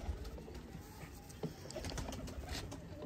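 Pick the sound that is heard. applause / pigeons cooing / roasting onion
pigeons cooing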